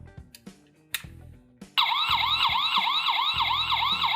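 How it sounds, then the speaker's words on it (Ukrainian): A few soft knocks and clicks, then a loud electronic siren from a 7708 motion sensor alarm starts, wailing in fast repeating up-and-down sweeps, close and steady. "Аларм при вловлюванні руху буде сирена."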